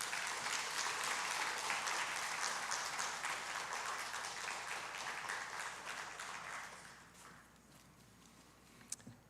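A church congregation at a Sunday service applauds to welcome a speaker, a dense ongoing clapping that thins and fades away toward the end.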